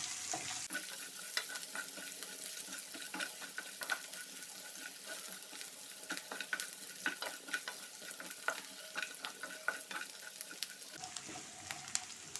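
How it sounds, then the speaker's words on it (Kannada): Onions fry in oil in a pan for dahi upma while being stirred, a steady bright sizzle with frequent scraping stir strokes throughout, fairly close and alone. "ಈರುಳ್ಳಿ ಕೂಡ ಫ್ರೈ ಆಗಿದೆ, ಸ್ವಲ್ಪ ಟ್ರಾನ್ಸ್ಪರೆಂಟ್ ಆದರೆ ಸಾಕಾಯ್ತಾ"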